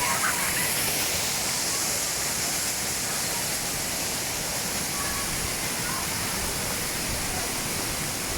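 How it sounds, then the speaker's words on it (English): Small waterfall in Georgia, a constant, loud rushing roar of falling water, steady and unbroken throughout. "This is one small waterfall."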